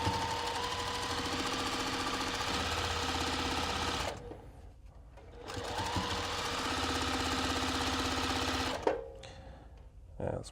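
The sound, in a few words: sewing machine stitching a quilt block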